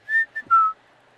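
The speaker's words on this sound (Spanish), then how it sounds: "Tal vez vas a silbar un rato." A person whistles a short three-note phrase, two brief bright tones and then a longer lower one, clear and close in an otherwise quiet space.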